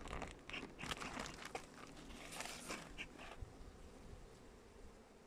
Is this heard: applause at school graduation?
no